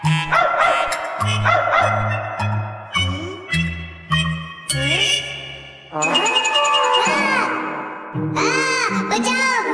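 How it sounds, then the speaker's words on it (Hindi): Cartoon dog barking in a run of quick, loud, bouncy yaps, followed by sliding musical tones and chimes, with animated voices mixed in. "अपने घर में कुत्ता घुस आया है, बचाओ।"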